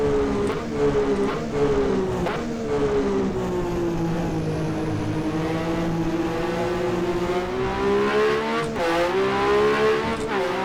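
A 1982 Ferrari 126C2 Formula 1 car in the rFactor 2 racing game drives continuously, its engine droning with steady harmonics that rise and fall through gear changes, loud and close with no voices.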